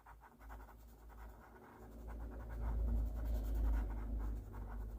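A blending stump rubs and smudges a pencil drawing of an eye on paper, producing a continuous soft scratchy scrubbing in quick back-and-forth strokes, close and growing a little louder, with no voices.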